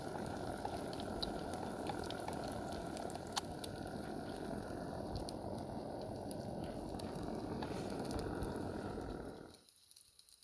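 Egg cooking in a pan on a truck for huevos rancheros gives a steady dense sizzle and bubbling hiss, close and unbroken for several seconds before cutting off abruptly near the end.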